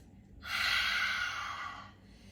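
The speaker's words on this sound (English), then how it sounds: "Take a big inhale through the nose. Exhale the mouth." Deep breath during a yoga flow, a single long airy breath lasting about a second and a half, close and soft, fading out smoothly with no talking.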